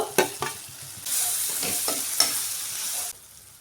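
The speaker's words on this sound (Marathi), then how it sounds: "कांदा टमॅटो छान शिजलाय आता आपल्याला टाकून घ्यायचं आहे वांग" Eggplant, onion and tomato cook in a pan: a few sharp scraping clicks of a spoon, then a louder sizzle with stirring for about two seconds before it drops off, with no speech.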